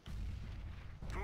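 Grenade blast in CS:GO: a single loud, booming burst that fills the short stretch with low rumble, followed by a brief fading crackle.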